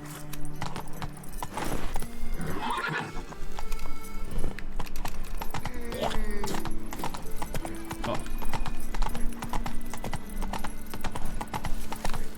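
Roach, the horse in The Witcher 3: Blood and Wine, gallops with a fast, steady clip-clop of hooves that runs the whole time, close and loud over layered game ambience and faint voices.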